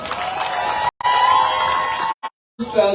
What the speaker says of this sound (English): let's give His Excellency a resounding round of applause